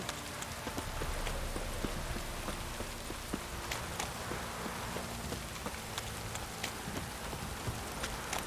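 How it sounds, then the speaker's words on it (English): Steady rain pours down in The Witcher 3: Wild Hunt, a dense hiss with scattered drops and pattering hits throughout, continuous and fairly loud. "This downpour's a bastard"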